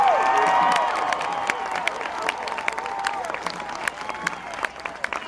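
A crowd at an outdoor rally at Hart Plaza claps and cheers. The applause swells at first, then thins to scattered claps as a voice speaks over it.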